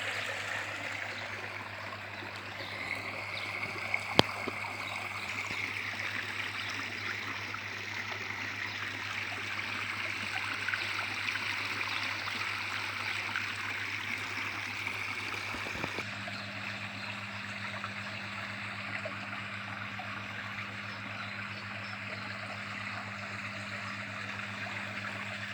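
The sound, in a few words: small waterfall cascade in homemade garden pond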